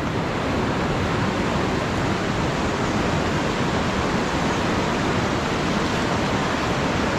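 Strong river current surging after a typhoon in a rural province, a dense, steady roar of rushing floodwater filling the whole clip, loud and unbroken with no talk.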